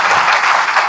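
Audience at a Shambhunath hospital and college event in Prayagraj clapping loudly for students, a brief, dense, close burst of many hands.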